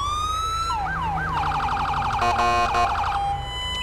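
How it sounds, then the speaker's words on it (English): A video game police car's Smart Siren wails, sweeping up and down, then shifts into a fast yelping warble and back, loud and close with no talking. "I'm still here with the siren that I used for the LAPD episode. I believe it's called the Smart Siren."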